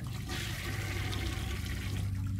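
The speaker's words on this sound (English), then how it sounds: "Could I flush this toilet?" Toilet flush in the horror game City of Nightmares: a loud, steady rushing gush of water that fills the whole short stretch.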